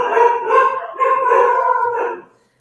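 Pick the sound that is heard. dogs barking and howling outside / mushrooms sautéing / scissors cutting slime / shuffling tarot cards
dogs barking and howling outside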